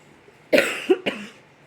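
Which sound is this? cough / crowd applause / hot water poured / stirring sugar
cough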